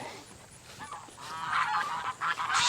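Several geese honk loudly and repeatedly nearby on a cattle farm, their calls overlapping in a noisy chorus.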